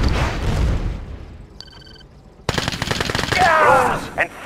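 Rapid machine-gun bursts and gunshots crackle in the Red Alert 2 Yuri's Revenge strategy game, loud and dense after a short lull, mixed with a brief electronic beeping tone and game effects.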